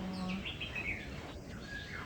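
Birds chirp and tweet continuously around a tall bird tower with nests, several small calls overlapping at close to moderate distance with a steady background hum, no talking.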